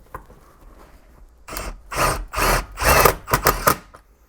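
A power drill drives large self-tapping screws into a Chevrolet Silverado's floor during a Hurst Quarter Stick shifter install, with several loud, close bursts of whirring and grinding after a quiet start.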